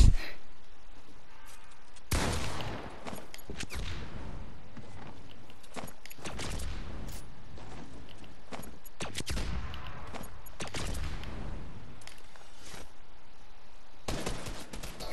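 Rapid bursts of gunfire in the Fortnite video game during a Creative-mode hide-and-seek match on the season one map, loud, dense volleys that cut in and out and nearly fill the whole stretch.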